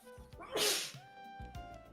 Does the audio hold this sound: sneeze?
yes